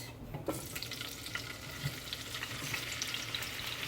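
Steady sizzling of already-hot oil previously used to fry plantains, a continuous close crackle with a few small pops and stirring sounds.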